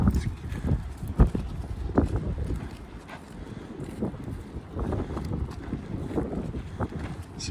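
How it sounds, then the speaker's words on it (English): A group of horses, little ones and big ones, roaming free in the backcountry beside a hiking trail, their hooves thudding and clopping irregularly close by over steady wind noise on the microphone. "group of horses just roaming the backcountry"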